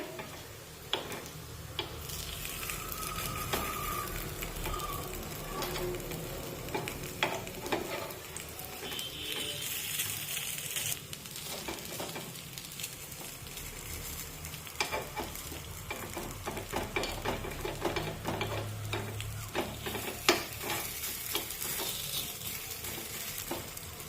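Green moong appe being flipped and frying in an appe pan, a low steady sizzle dotted with many small ticks and clicks from the turning tool, continuing throughout with no speech.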